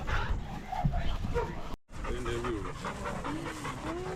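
A hunting dog pants rapidly and steadily up close at a dog show, with short whimpering yips and a person talking softly over it.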